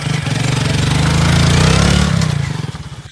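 A motorcycle engine runs loud and close for a few seconds, its throbbing beat swelling and then fading as the bike is ridden away.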